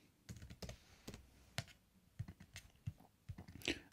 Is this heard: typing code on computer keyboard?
yes